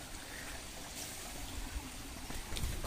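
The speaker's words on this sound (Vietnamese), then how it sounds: "bây giờ bắt đầu là mình đang vô suối dưới rừng này mọi người ơi" A small forest stream on a mountain trail, trickling and flowing continuously at low volume close by, with no voices.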